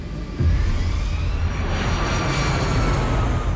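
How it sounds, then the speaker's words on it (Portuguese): An Airbus A320 jet airliner on takeoff from New York, a sustained loud roaring engine rumble that swells suddenly after a brief quieter start and holds steady, with no voices. "o A320 ganhou os céus de Nova York"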